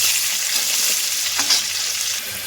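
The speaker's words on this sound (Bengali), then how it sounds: "এবার পেঁয়াজগুলো হালকা করে লাল করে ভেজে নিলাম" Onions fry in mustard oil in a wok with a loud, continuous sizzle, close up, while a spatula stirs through them with scraping sounds.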